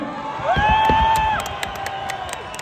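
Wrestling fans in an arena cheer and shout for Lev Pavlov during a 57 kg final, a loud crowd roar with a prominent rising whistle or shrill call, followed by scattered claps and shouts as the noise fades.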